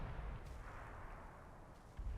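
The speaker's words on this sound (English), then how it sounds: "And explosions, we like explosions." Explosions and gunfire in the wartime strategy game Combat Mission Final Blitzkrieg: a continuous low rumble of distant artillery, with a couple of sharper bursts, at moderate level.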